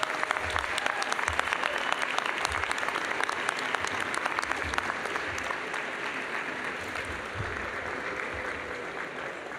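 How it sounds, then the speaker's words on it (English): Steady applause from a large audience at a College of Veterinary Medicine commencement ceremony honoring graduates' families, continuous clapping at moderate distance in a big hall. "Please give them and recognize them with a round of applause."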